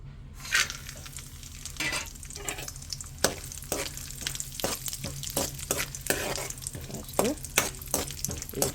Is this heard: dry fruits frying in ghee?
yes